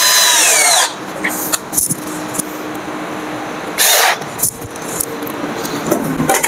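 A power drill drives screws to fix a universal indoor bracket, with two loud whirring bursts near the start and middle, separated by quieter handling and clicking noises.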